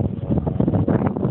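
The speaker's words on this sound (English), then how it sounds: "there's a lot of wind and a very noisy aircraft going overhead" Strong wind buffets an outdoor microphone at a brushy site with a fence, producing a constant loud, rumbling roar that fills the whole short stretch.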